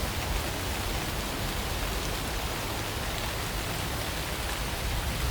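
Steady rain falls without a break, a dense and even hiss of drops on a surface that holds a constant moderate level, with no voices or other sounds.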